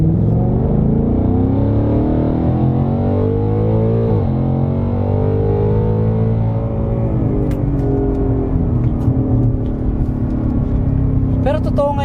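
A Ford Mustang GT 5.0 S650 pulls away gently, its V8 engine rumbling and rising in pitch through gentle acceleration, close and loud, with people talking over it inside the car.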